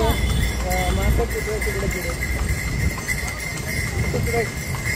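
A horse-drawn cart on a busy market street, hooves clip-clopping steadily under ongoing talk and traffic noise.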